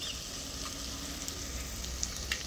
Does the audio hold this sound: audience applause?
no